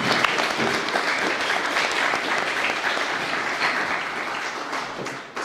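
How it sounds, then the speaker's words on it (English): Round of applause from an audience at a Ukrainian community event in London, dense continuous clapping throughout, fading slightly at the end. "Round of applause, please."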